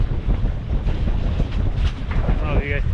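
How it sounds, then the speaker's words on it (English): Strong wind buffets the microphone on a fishing pier as rough storm waves churn below, a loud, steady roar with a brief higher tone near the end. "I don't know if you guys can tell how bad those waves are."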